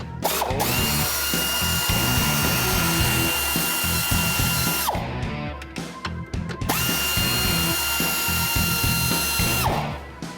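Working on an exhaust pipe, a power tool whirs and ratchets continuously to remove a clamp, with loud, buzzy bursts broken by brief pauses and a falling whine as it winds down.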